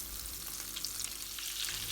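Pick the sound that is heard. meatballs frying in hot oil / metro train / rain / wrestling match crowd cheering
meatballs frying in hot oil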